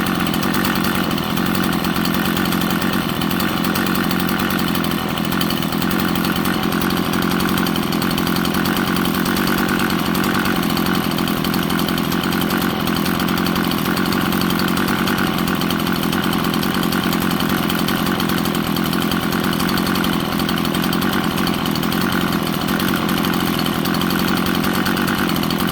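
A small two-stroke weed eater engine, flooded after being completely submerged in water and running without an air filter, drones steadily and loudly up close for the whole stretch with no talking.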